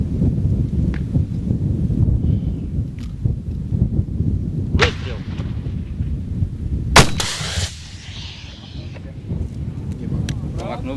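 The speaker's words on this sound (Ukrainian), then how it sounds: "От теж протитанкова граната." At a military firing range, an anti-tank grenade launcher fires with a sharp blast, preceded by lighter bangs, while people talk around it outdoors.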